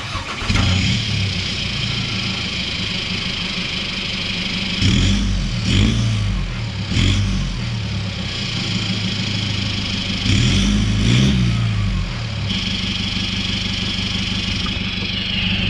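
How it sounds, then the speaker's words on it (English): A Chevy ZR2 diesel engine with an upgraded exhaust cranks and fires, then settles into a steady, fairly quiet idle with several short revs along the way, heard up close with no talking. "we're gonna do a quick startup so you guys can hear the idle on the diesel exhaust here"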